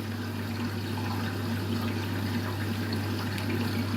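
An overloaded washing machine in a suds lock pumps water with a steady hum and churning gurgle, continuous and fairly loud throughout.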